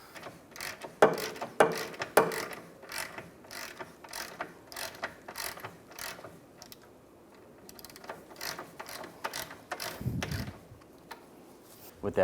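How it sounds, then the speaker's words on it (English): A ratchet with an 18mm socket loosens a bolt on the rear lateral link of a 2004-2010 BMW X3's suspension, making a string of close, rhythmic clicks in short bursts with brief pauses between strokes. "Now I'm going to use an 18mm socket, loosen up this bolt here."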